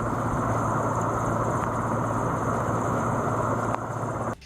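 A rescue helicopter hovers over floodwater in Jamnagar to airlift a stranded man, its rotor a loud, steady, continuous roar that cuts off sharply at the end.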